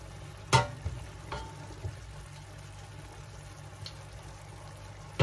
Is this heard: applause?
no